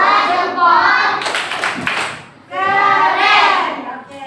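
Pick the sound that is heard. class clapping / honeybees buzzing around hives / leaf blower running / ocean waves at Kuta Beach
class clapping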